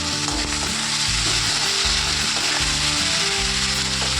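Tomatoes frying in a pan with browned onions, giving a dense, steady sizzle and crackle close by, with rhythmic mechanical clatter underneath and no speech.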